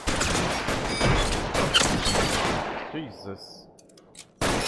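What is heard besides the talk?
gunfire in the video game L.A. Noire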